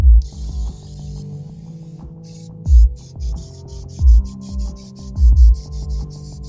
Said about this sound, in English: you can use hairspray and just spray it down